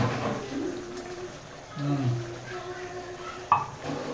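A pot of odong noodles with sardines bubbles and sizzles on the stove with faint stirring and utensil clinks, a sharp clank near the end, and soft background voices.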